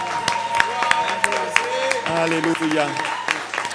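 A church congregation claps and cheers during a worship service, a steady patter of applause running beneath a voice singing or calling out over music.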